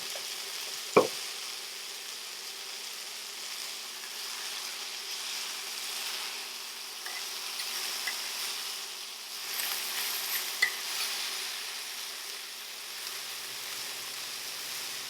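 Onions and chicken sizzle in a cast iron pan on a high-heat induction cooker, a steady soft frying hiss with an occasional sharp clink of a utensil, fairly quiet throughout.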